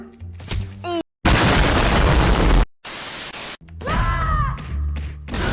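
Explosive arrow blasts in the game Roblox, heard as loud noisy bursts cut by abrupt silent gaps, with excited voices before and after the blasts.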